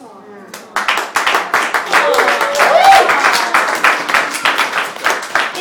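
Applause for Louise at a poetry reading in an open studio, a burst of clapping that starts abruptly and carries on steadily, with a voice briefly heard over it.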